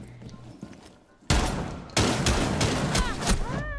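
Gunfire in Rainbow Six Siege: after a quiet opening, loud close bursts of rapid automatic shots crack in quick succession, with brief pauses between volleys.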